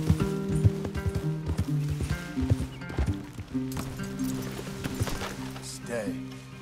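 Horse hooves clip-clop in the Western video game Red Dead Redemption 2, an uneven run of close thuds under music and voices, loud at first and then settling.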